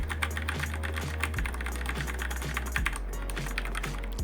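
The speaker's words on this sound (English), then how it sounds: "here's a keyboard I pulled out of the closet that's using Cherry MX brown switches" Typing on a mechanical keyboard with Cherry MX Brown switches gives a quick, irregular run of soft tactile key presses, close up and fairly quiet, with no talking.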